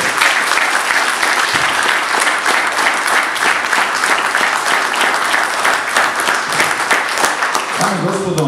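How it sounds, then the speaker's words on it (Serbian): Sustained audience applause fills the hall at a poetry book launch, steady and dense throughout, with a voice beginning to speak near the end. "Još jedan veliki aplauz."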